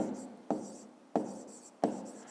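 Pen writing numbers on paper during a grade 5 maths exercise, heard as three or four short scratchy strokes, close and alone with no talk.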